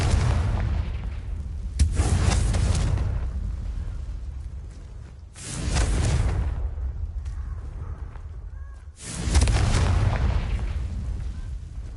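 Confringo fire spell blasts in the video game Hogwarts Legacy, three loud booming explosions spaced a few seconds apart, each with a sharp onset and a long rumbling tail, no talk.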